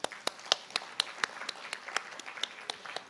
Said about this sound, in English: So let's thank them with a round of applause,